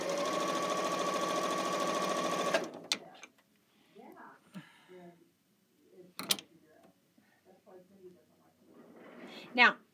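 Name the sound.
sewing machine stitching quilt blocks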